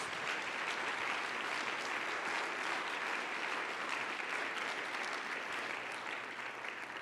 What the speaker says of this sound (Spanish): Dale un fuerte aplauso al Rey de Reyes.